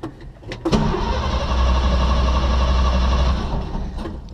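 Car engine with a leaking Holley carburetor cranks on full choke, a few quick turns and a clatter, then catches and runs steadily, loud and close, before easing off.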